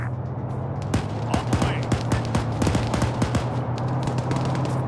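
Heavy machine gun fire in a video game, a rapid stream of sharp cracks over a steady engine-like drone, loud and continuous with a voice faintly beneath.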